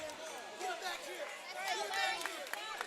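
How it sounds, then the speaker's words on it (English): A packed basketball crowd at a district 1A quarterfinal game sits close by, its excited shouting and chatter rising and falling in a continuous dense babble. "You could hear them shouting, trip, trip, trip."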